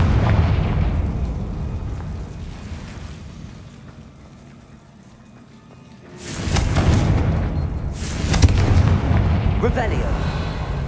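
Heavy booming blasts from the Confringo fire spell in Hogwarts Legacy during a boss fight. Loud rumbling explosions fill the start, then a quieter stretch, then a fresh burst of large blasts from about six seconds on.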